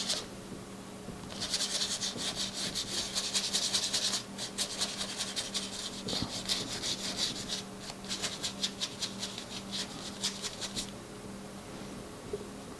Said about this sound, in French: Alors je peux frotter aussi le bleu sur... Comme il y a du gesso dessous, si je frotte, ça fait des effets.